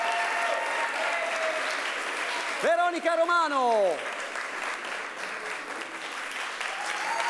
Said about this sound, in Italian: Facciamo un applauso anche a Federica